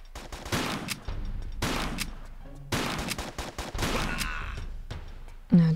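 Gunfire bursts in the video game Tomb Raider 3, Area 51 level: several loud volleys of shots in quick succession, separated by brief pauses, ending with a short sharp electronic tone.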